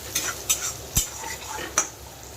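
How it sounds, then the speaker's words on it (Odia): Chopped onions and garam masala fry in hot oil while a metal spoon stirs the pan, giving close scraping clinks at an irregular rhythm over a steady, soft sizzle. "ଭାଜିଦେବା ପିଆଜକୁ।"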